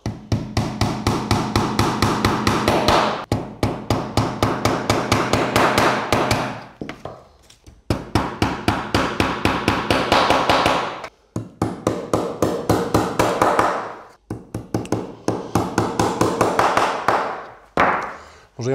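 Steady hammering of black nails to fix ordinary butterfly hinges onto a handmade wooden key cabinet: loud, close, rapid strike bursts in several runs separated by brief pauses.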